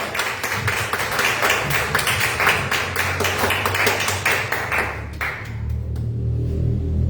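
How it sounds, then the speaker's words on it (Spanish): Congregation at a church service applauding loudly and steadily, a dense wash of many hands clapping together that thins out and fades near the end. "Dar un aplauso al Señor fuerte, fuerte, fuerte."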